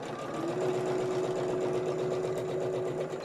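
A sewing machine runs steadily with a fast, even mechanical chatter and a faint rattle, close and alone with no voices over it.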